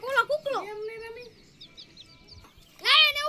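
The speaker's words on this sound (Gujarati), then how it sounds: "જો આ કુકડીના બસા" A hen clucks in short bursts near the microphone, with thin, high cheeping from chicken chicks in between and a louder run of clucks near the end.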